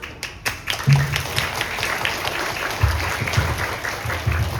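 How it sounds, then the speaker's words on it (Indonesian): Sustained crowd applause at an Indonesian national awareness flag ceremony, given for the ceremony officers; steady, fairly loud clapping throughout with a few sharper individual claps near the start. "Dan untuk petugas upacara sama-sama kita berikan aplaus yang bagus."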